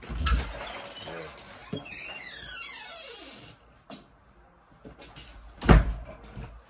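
A drawer slides open with a scraping rattle during a search for scissors indoors, followed by a drawn-out creaking squeal, softer rummaging, and a sharp thump as it shuts.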